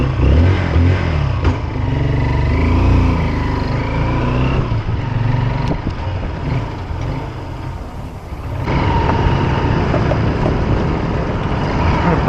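Motorcycle being ridden, its engine note and road-and-wind rush holding steady and close throughout, dipping slightly near the middle before returning at full strength, with no talking.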